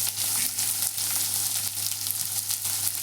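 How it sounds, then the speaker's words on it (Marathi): Chopped onion sizzling and frying in hot oil in a pan for veg fried rice, a steady loud hiss filling the whole stretch with faint stirring texture and no talk. "आता त्याच्यामध्ये आपण कांदा टाकून घेऊ."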